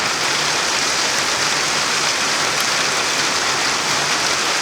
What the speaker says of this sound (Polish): Dzisiaj dla odmiany pada deszcz, żeby nudno nie było.